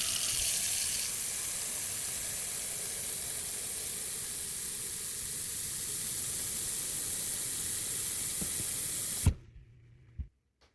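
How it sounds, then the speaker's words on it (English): Warm water running from a tap into a bowl, a steady broad hiss filling the scene for about nine seconds before cutting off, followed by a couple of brief knocks and near silence. "I'm gonna fill up a bowl with warm water and see how that goes."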